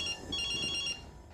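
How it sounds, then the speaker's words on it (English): A mobile phone ringtone chirps in a repeating electronic pattern for about a second, then stops, leaving faint room noise. "let's try your mobile phone. It's ringing."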